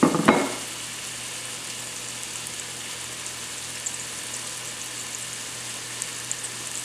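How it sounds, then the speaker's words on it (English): Onions sizzle steadily in a pan, a soft, even frying hiss after a brief clattering burst at the start. "And we're going to add in our onions. And we are going to cook these for about 5 to 10 minutes"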